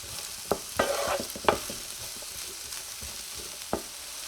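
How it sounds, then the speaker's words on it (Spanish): Finely chopped onion and bell pepper sauté in a hot pan, a continuous crackling sizzle punctuated by several sharp utensil scrapes and clacks as they are stirred. "Cuando comience a calentarse agregamos una cebolla cortadita bien pequeña y un pimiento. Y pocharemos aproximadamente por unos 3 a 4 minutos."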